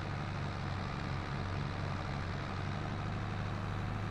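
Tractor engine in Farming Simulator 22, working at its limit in four-wheel-drive high while creeping along a road at slow speed, a steady low drone with a constant rumbling hum throughout and no talking.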